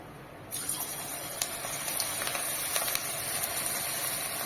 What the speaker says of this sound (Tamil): இப்போ நான் கடாயில் எண்ணெய் ஊற்றி வச்சிருக்கேன் நல்லா சூடாக இருக்குது எண்ணெய் நல்லா சூடாக இருக்கணும் இப்போ நம்ம ஃப்ரை பண்ணிக்கலாம்